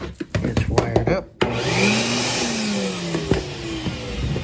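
A shop vac strapped down in the corner of a workshop, running on inverter power, starts after a few sharp clicks and settles into a loud, steady motor whine with a slowly rising tone close by.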